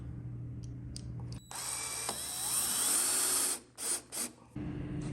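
Power drill boring a hole to mount a bolt latch on a wooden chicken tractor, a close, loud whine held for a couple of seconds, then a few short stop-start bursts as the drill is eased off.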